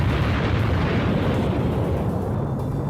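A huge screen-clearing explosion from a self-made video game, the kind that wipes out every enemy: a dense, continuous rumbling roar that holds steady and loud throughout with no pauses.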